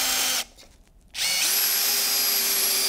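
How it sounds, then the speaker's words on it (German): Cordless screwdriver driving a partial-thread screw into a wooden board: a loud whining motor run, a short pause, then the motor spins up again with a rising steady whir as the screw bites. "Wir haben ja mehrere Akkuschrauber da."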